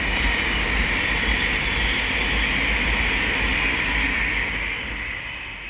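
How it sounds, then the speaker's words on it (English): A Thameslink Class 700 from Bedford to London Blackfriars rushes past at Elstow on the Midland Main Line, a loud continuous roar of wheels and hissing air that starts to fade toward the end. "The next train to pass by is going to be a Thameslink Class 700 from Bedford to London Blackfriars."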